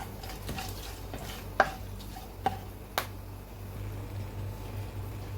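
Garam masala frying in a pan for chicken tikka biryani, a low steady hiss with a few sharp spoon taps and scrapes against the pan, close, no voices.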